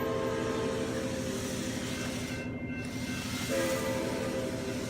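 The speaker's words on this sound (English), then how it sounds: "HO scale, Union Pacific train." An HO scale Union Pacific model toy train runs along its track with a steady close rumble and rhythmic clatter, alone without voices.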